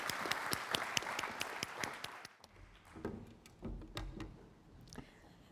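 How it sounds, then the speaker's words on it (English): Audience at a conference opening session claps for about two seconds as a speaker is welcomed, a dense burst of applause that fades into scattered last claps and room noise. "Let's welcome her with a big round of applause."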